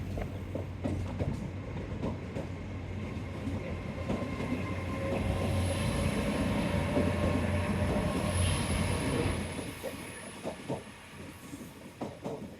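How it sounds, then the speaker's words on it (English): A train rumbles past close by on the seafront at Teignmouth, a steady heavy roar with rhythmic rail clatter that swells in the middle and fades toward the end. "oh, train, hello"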